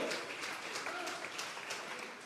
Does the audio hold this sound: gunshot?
no